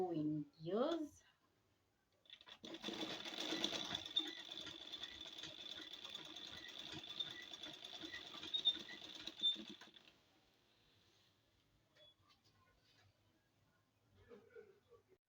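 Sewing machine stitching a gomesi, Buganda traditional wear: a fast, even mechanical whirr and patter runs for about six seconds. Brief speech comes before it, and soft handling noises follow.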